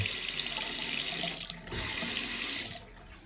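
A household water tap runs at full flow to test water pressure, a steady loud hiss that dips briefly, surges back, then cuts off near the end.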